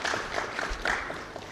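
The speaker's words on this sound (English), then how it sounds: "If you want to clap, you can clap." Steady applause from a public forum audience, a continuous wash of many hands clapping at even loudness with no talk over it.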